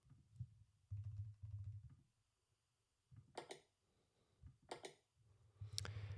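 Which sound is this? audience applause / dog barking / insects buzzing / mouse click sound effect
mouse click sound effect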